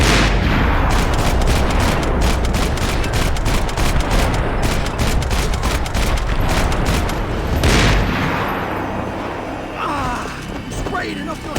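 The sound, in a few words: sniper gunfire in the video game Max Payne 3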